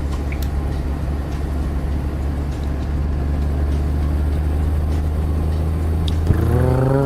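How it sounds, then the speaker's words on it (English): A truck engine in American Truck Simulator pulls steadily under load, a quiet continuous low rumble that rises slightly toward the end as it accelerates, with no talk over it. "It's such a quiet engine, too. I'm kind of astonished at how quiet the engine is in this thing."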